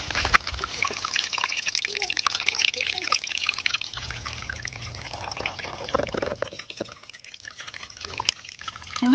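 Water being let into a paddy field trickles and drips steadily, a wet running flow with gurgles and small splashes, fairly close, with a voice speaking faintly at points.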